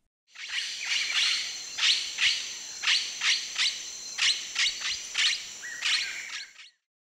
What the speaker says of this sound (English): Blue-headed parrot.